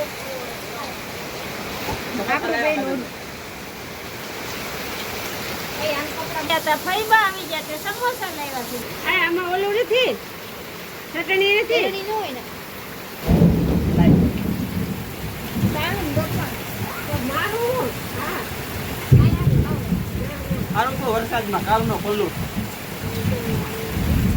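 Heavy monsoon sowing rain pours down over flooded farmland, a dense loud hiss of rain with rolling thunder bursts, while someone talks throughout.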